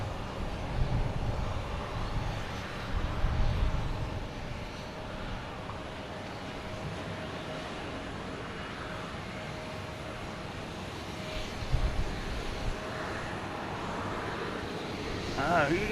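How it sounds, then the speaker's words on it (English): A Delta Airbus A321neo jet airliner from Denver arrives at Boston Logan Airport, its engines a steady distant roar that holds across the whole stretch with slight swells. "Next to arrive is Delta and A321neo coming in from Denver."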